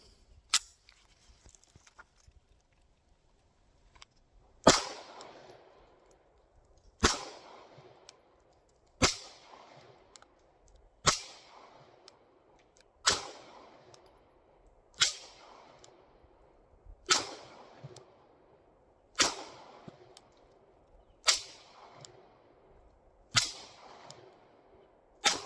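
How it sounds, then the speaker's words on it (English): Walther P99 pistol fitted with a custom barrel firing standard 115 grain 9mm rounds outdoors, a steady string of sharp single shots about two seconds apart, each loud crack followed by a short decaying echo. "We're just going to take standard 115 grain 9mm ammunition from a 15-round magazine that was for the Walther P99, and let's just see how it cycles."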